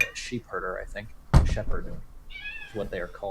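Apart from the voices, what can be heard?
cat meowing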